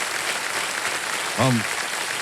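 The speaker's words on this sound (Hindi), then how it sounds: "तालियां बज जाएं इनके लिए" A television quiz show's studio audience claps in a steady, dense wash of applause, with a brief voice cutting in partway through.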